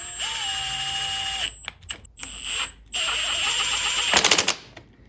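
A power tool drives screws to refit the fuel tank on a 2005 R6 motorcycle during reassembly: a close, high-pitched motor whine runs in several bursts with short pauses, ending in a quick rattling flurry.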